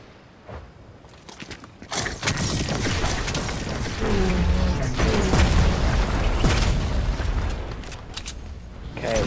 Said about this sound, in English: More airstrikes.